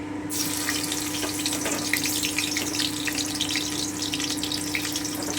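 Garlic dropped into hot mustard oil sizzles in a steady, loud, crackling hiss that fills the whole stretch without pause, close by, with no one talking.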